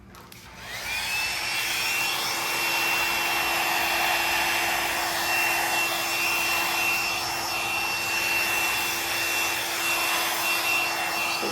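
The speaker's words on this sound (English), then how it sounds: "if I take my blow dryer across it" A blow dryer blows steadily across a wet acrylic paint pour, starting after a brief pause and holding a loud, even rushing hiss with a faint whine for about ten seconds.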